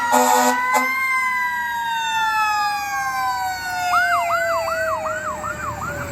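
The Tunxis Hose Engine 2 fire engine's siren sounds close and loud, first a long falling wail and then a rapid rising-falling yelp, with no talking.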